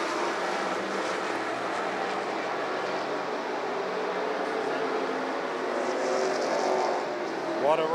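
Race cars roar around Wythe Raceway in a weekly division race, a steady distant engine drone filling the whole stretch, with a commentator talking over it.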